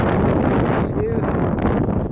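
Strong wind gusting across an exposed crag edge in the Brecon hills, a loud, roaring buffet on the microphone that rumbles and swells steadily, with a voice faintly mixed in.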